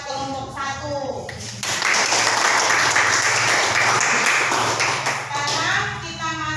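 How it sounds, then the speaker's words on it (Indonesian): A classroom gives applause for a presentation group, breaking out as a burst of dense clapping that holds steady for several seconds and then fades as a voice speaks again at either end. "Dengan aplaus buat kelompok 1."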